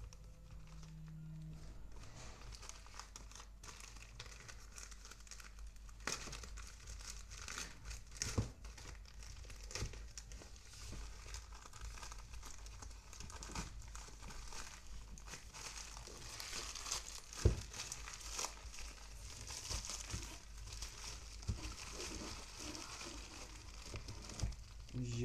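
Crinkling and crumpling of smartwatch packaging being unboxed and peeled open, a steady close rustle with scattered tearing snaps over about twenty-five seconds, faint and continuous with occasional louder bursts.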